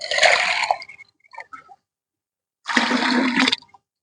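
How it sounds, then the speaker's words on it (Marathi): Water is poured into a container while preparing an amla citrus bio-enzyme, two splashing bursts separated by a brief pause and quiet trickles. "याच्यात पाणी घालूया."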